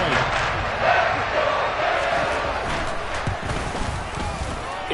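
A stadium crowd roars after a Buffalo Bills touchdown at a football game, a broad sustained cheer that stays loud and even throughout, with scattered shouts rising out of the mass of voices.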